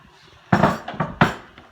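Sliced mushrooms are tipped into a pan of garlic and onions, two short clattering thuds with a quick rustle between them, close and fairly loud.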